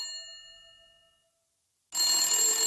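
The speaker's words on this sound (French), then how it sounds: "Une seconde sonnerie." A telephone rings as a sound effect in a French horror audio drama: one ring fades out into silence, then a second bright, loud ring cuts in.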